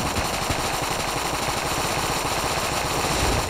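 Continuous rapid gunfire from the Dragon boss fight in the video game Enter the Gungeon, a dense steady rattling stream of shots with game noise, loud and unbroken throughout.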